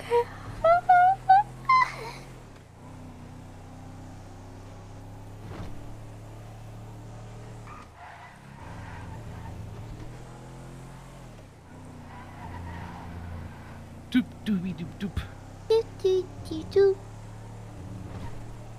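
A car drives through a GTA roleplay game world with a steady low engine drone and brief revving bursts, while several people chat over it throughout.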